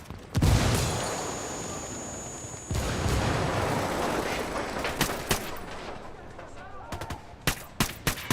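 A grenade explodes in the video game Ghost Recon Wildlands with a heavy boom, followed by a second blast and a long stretch of rumbling gunfire with sharp, scattered shots near the end.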